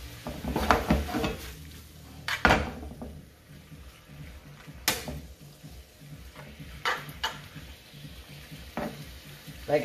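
Pappardelle pasta noodles with tofu and soy sauce cook in a pan, giving a steady close sizzle broken by occasional sharp clanks of a utensil against the pan.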